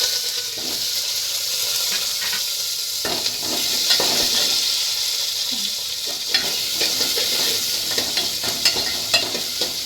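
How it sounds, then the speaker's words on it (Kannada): Onions and mustard seeds fry in hot oil for a jeerige bajji tempering, giving a continuous close sizzle with intermittent scraping and stirring clatter from a spoon in the pan. "ಜೀರಿಗೆ ಬಜ್ಜಿಗೆ ಯಾವಾಗೂ ಸ್ವಲ್ಪ ಈರುಳ್ಳಿ ಜಾಸ್ತಿ ಹಾಕಿ ಒಗ್ಗರಣೆ ಹಾಕಬೇಕು"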